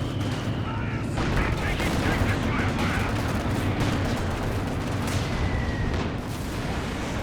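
Werfer rocket artillery fires in the video game Company of Heroes 2 amid a dense, continuous battle din of crackling gunfire and rumbling blasts, loud and unbroken, with a couple of brief whistling streaks overhead.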